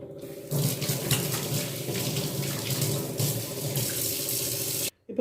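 Peeled taro roots are scrubbed under a running kitchen tap, a continuous close splashing rush of water that holds steady for about five seconds before the flow stops abruptly.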